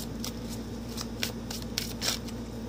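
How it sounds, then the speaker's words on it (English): Soft, quick riffling of tarot cards being shuffled, a series of short papery bursts over quiet background hum. "So I'm going to shuffle a bit more here."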